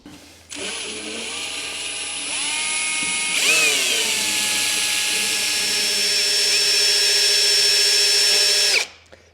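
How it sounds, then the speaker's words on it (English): An electric drill drives a small pump drawing diesel fuel out of a Mercedes-Benz 124 during a service: a steady high motor whine that rises in pitch as it spins up, then runs loud and continuous for several seconds before cutting off. "put one end down in the fuel, the diesel, attach a drill"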